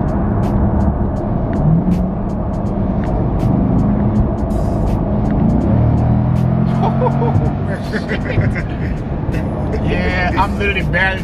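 C8 Corvette fitted with a Pedal Commander throttle controller, engine revving and pulling under light throttle with steady road and cabin noise throughout, someone talking over it.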